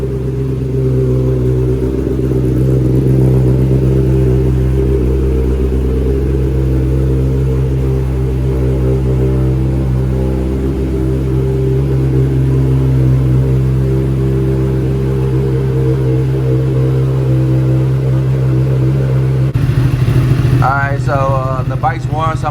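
A 2021 Kawasaki ZX10R sport bike idles while warming up, a steady close engine rumble that holds evenly, ending with a brief rev and a short burst of voice.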